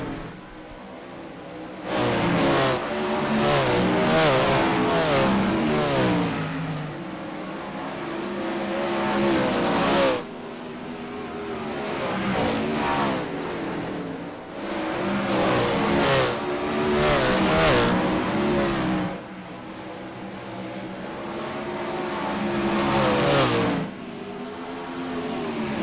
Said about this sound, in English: We'll let you enjoy some sights and sounds here for our 410 sprint cars for the final 3 laps